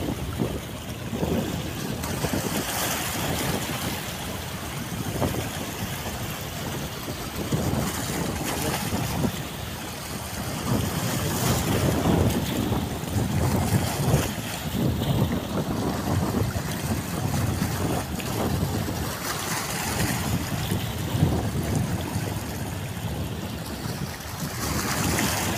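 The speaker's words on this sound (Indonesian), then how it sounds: "Masuk ke pelabuhan dengan kecepatan rendah." A small fishing boat, crewed by one person, enters a harbor at low speed with a steady low engine rumble amid lapping water and wind noise, continuous and fairly loud, with no voices.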